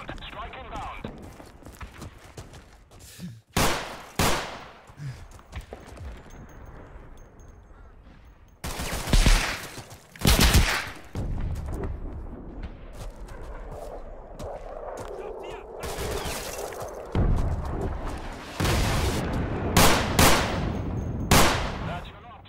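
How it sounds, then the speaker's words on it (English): A cannon strike and gunfire in the video game Screaming Steel: loud booming blasts and bursts of rapid shots stand out over a background of clattering battle noise, with voices talking throughout. "Fire that bloody great cannon!"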